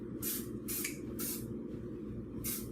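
Cooking oil spray is squirted onto a waffle iron in four short bursts, each a sharp hissing spritz with brief pauses between, close up over a steady low background hum.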